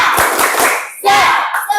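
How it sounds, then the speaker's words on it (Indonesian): A classroom group claps for a presenting team, giving a short burst of applause that mixes with children's chatter, close by and fading after a second or so. "Tepuk tangan untuk kelompok 2."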